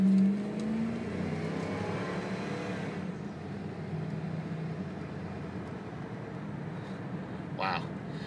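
A 2000 Dodge Ram 4x4 truck cruises with its engine droning steadily under road and wind noise, fairly quiet and even throughout.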